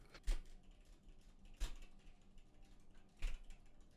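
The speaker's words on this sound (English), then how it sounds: "I'm just typing something real quick" Three sharp, evenly spaced taps ring out against a faint, quiet background, sounding like keystrokes on a computer keyboard heard close up.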